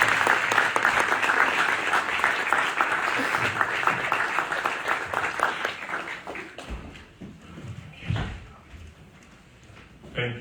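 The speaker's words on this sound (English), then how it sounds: "I want us to just give a round of applause for His Excellency Governor Godwin Obaseki of Edo" Audience at a University of Oxford Africa conference applauds Governor Godwin Obaseki of Edo State, dense clapping that gradually thins and fades out, followed by scattered thumps and faint movement near the end.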